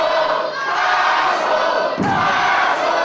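A large wrestling crowd at an Irish Whip Wrestling show keeps up a loud, continuous roar of cheering and shouting, dense and steady throughout with a brief surge near the end.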